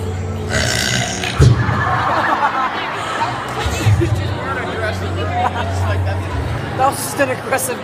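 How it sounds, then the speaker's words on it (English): An aggressive, long, loud burp at a talent show, a deep rumbling belch rising over a chattering crowd, followed by more belching, chuckles and people talking nearby. "That was just an aggressive burp."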